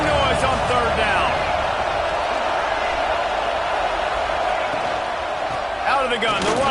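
A football stadium crowd roars steadily on third down, a broad sustained wall of noise with scattered whoops, while a commentator talks over it.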